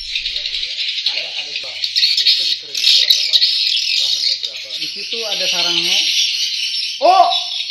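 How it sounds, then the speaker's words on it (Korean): Recorded bird calls play from a loudspeaker at a swiftlet nesting house in a water village in Borneo: steady high chirping and twittering mixed with insect-like buzzing, while people talk nearby. "스피커에서 나오는 새소리를 듣고 새들이 날아와"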